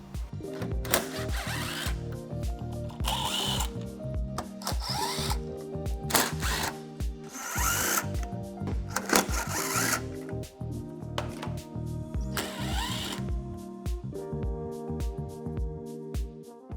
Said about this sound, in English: we're going to take all the screws off so we can get the welder case removed